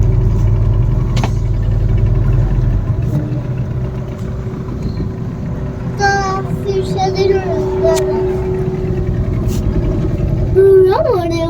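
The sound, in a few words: glass-bottom boat engine running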